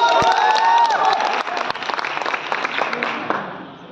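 Audience at a Bhojpuri music event clapping, a dense burst of applause at close range that gradually thins out, mixed with crowd noise and a voice speaking over it.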